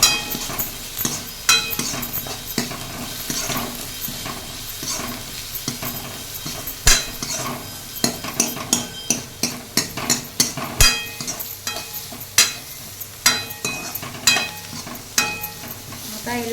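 Onion, cumin and curry leaves sizzle and fry in a kadai for Khandeshi shev bhaji, with a spatula scraping and stirring in irregular clinks and scrapes over a steady hiss, close and moderately loud throughout.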